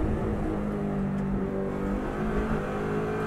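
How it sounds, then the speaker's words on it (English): Subaru WRX STI on the Isle of Man TT course in 2014, braking and downshifting into third gear: a loud, close engine roar whose pitch shifts as the revs change. "Braking down into third."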